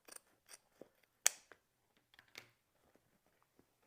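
Scissors snip through decorative ribbon on a craft bow, one sharp close cut standing out among a few softer rustles and small handling sounds in a quiet room.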